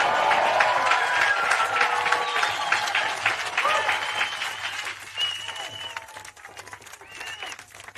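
A crowd at an outdoor nature restoration demonstration applauds and cheers, with sustained clapping, scattered whistles and voices, loud at first and then thinning out toward the end.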